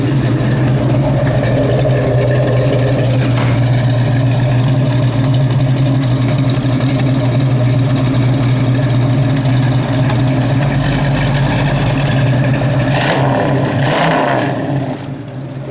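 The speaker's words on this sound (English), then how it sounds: "Car sounds great." A 1972 Dodge Challenger V8 idles loud and close with a steady low rumble, and a couple of sharp revs swell near the end before it settles back.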